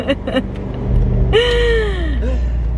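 A truck rumbles past close by, a low, steady engine drone with a rising and falling whine, while people talk over it in a car.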